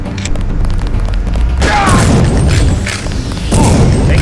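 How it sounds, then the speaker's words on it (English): Gunfire in the video game Deus Ex: a dense run of loud booming shots and crashing impacts, with a heavy burst starting partway through and another surge near the end, close and continuous. "Taking fire here."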